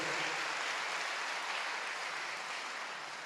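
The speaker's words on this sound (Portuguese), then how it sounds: "Dê mais forte esse aplauso ao Rei." A church congregation applauding together: a continuous wash of many hands clapping, thick and even, at moderate level, easing slightly toward the end.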